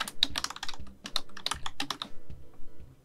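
Quick bursts of typing on a computer keyboard, key clicks clattering in uneven clusters with short pauses between them, close and fairly quiet.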